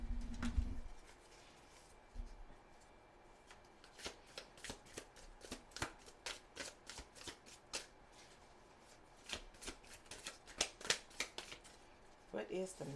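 Tarot cards being shuffled and pulled by hand, close up: a steady series of quick riffling flicks and card snaps, with a brief muffled thump at the start and a quiet background.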